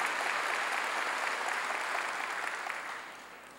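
A church congregation applauds during a sermon, a steady wash of many hands clapping together, fairly distant and soft, that fades out toward the end.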